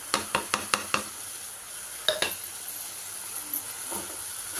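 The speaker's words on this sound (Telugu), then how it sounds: "దీంట్లో వేసేసి మళ్ళీ ఒకసారి ఇట్లా తిప్పుదాం" A spoon scrapes and knocks against a pan while stirring garlic, cumin, tamarind, salt and turmeric, beginning with a quick run of five sharp taps, then a few scattered clinks over a faint hiss.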